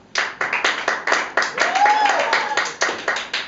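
A small audience claps in short, separate bursts during an interactive choose-your-path storytelling show, each burst quick and fading, with a brief whistle-like tone rising and falling partway through.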